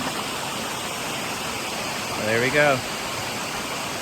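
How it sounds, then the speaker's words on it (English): Water rushes steadily at the top of a waterfall near a lake, a constant broadband roar with a person speaking briefly over it. "Top of the waterfall."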